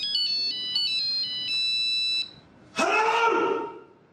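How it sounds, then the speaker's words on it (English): A Nokia mobile phone plays the Grand Valse ringtone, a loud, clear run of bright electronic beeps. Then, after a brief pause, a voice begins talking. "every time anyone bought a Nokia phone and didn't change the tone and the ringtone went off"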